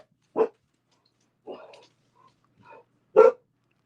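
Dogs bark indoors in three short, separate bursts spaced about a second apart, with a quieter, rougher vocal sound between the first and last barks.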